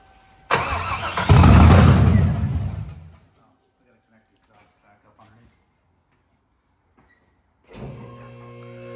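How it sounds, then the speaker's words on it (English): A supercharged car with open headers fires up loud and close, a raw blast that settles into a harsh idle and then cuts off, followed by a quiet stretch and a restart as someone speaks. "Little open header action there."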